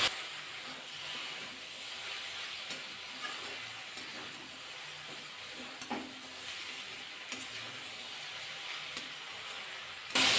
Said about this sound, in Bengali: পেঁয়াজটা বেগুনটা কিন্তু ভালো করে ভাজা করে নিয়েছি